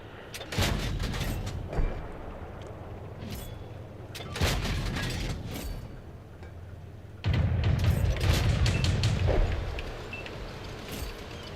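Tank cannons firing in World of Tanks, several heavy booming shots spaced a few seconds apart over rumbling engine and mechanical noise.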